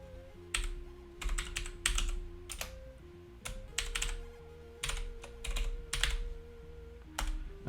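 Fingers type on a computer keyboard in quick irregular bursts of clicking keystrokes, close by and fairly quiet, separated by short pauses, with a low electronic tone humming underneath.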